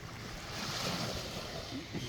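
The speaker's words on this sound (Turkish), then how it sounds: "Dalga sesi." Sea waves wash into a quiet bay on the Aegean coast at night, a steady broad surf rush with a faint wind-like hiss, close and continuous with no talk.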